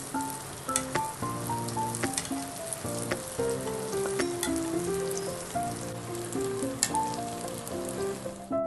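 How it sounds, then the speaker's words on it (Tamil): Bread pieces frying in hot oil for bread halwa: a continuous, dense crackling sizzle with soft popping, under a steady backdrop of background music. "ஆயில் நல்லா ஹீட் ஆனதுக்கு அப்புறம் இந்த பிரெட்டை ஃபுல்லா நான் போட்டு பிரவுன் கலர்ல ஆகுறது"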